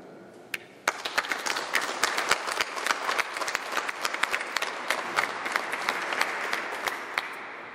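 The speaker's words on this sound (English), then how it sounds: "please join me in a round of applause for our family and friends" A graduation crowd at a ceremony for waterways conservation officers breaks into applause, scattered claps quickly swelling into sustained, fairly distant clapping that holds steady to the end.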